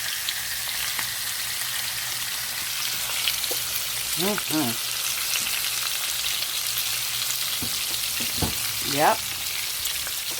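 Thick ribeye steaks sizzle steadily in a pan, a continuous frying hiss with a few light clinks and a brief word spoken over it.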